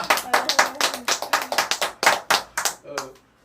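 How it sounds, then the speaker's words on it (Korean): A church congregation claps hands during a Korean service, a close, lively run of brisk claps that fades out after about three seconds, with voices faintly present. "박수 한번 쳐."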